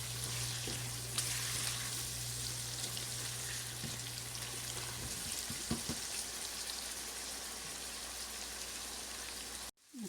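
Masala stir-frying in a pan for a lentil dal, a continuous close sizzle like light rain with a low steady hum underneath and occasional scraping stirs.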